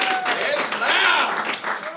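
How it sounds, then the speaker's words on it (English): Crowd at a live rap battle cheering and whooping loudly and continuously, a dense wash of shouts with scattered clapping, close and sustained throughout. "let's hear cheer"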